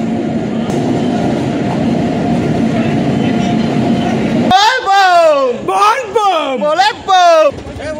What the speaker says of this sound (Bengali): তো গাইস ফাইনালি ট্রেন ঢুকছে, আর এদিকে দেখতে পাচ্ছ ট্রেন ঢুকছে